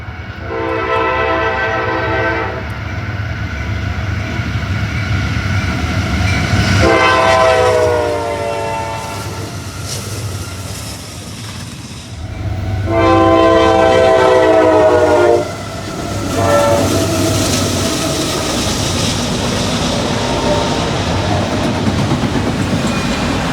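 A train rolls past outdoors with a loud rumble and clickety-clack of railcars, its horn sounding in several long blasts spread across the pass, the loudest near the middle.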